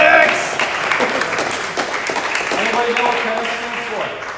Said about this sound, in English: Give that guy a round of applause.